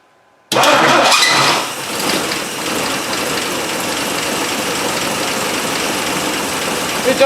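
A Dodge Dart engine, stored for over ten years, cranks and catches loudly, then settles into a steady, rough idle with a continuous close mechanical roar.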